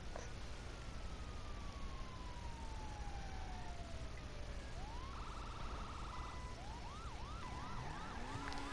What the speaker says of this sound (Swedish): Jag kommer, jag slår på sirenerna.